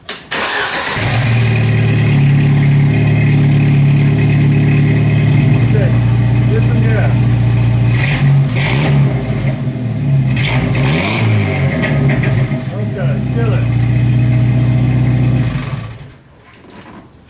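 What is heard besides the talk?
Jeep four-cylinder engine starting and revving, Total Flow muffler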